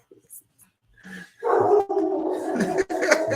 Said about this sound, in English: Our dog, he heard me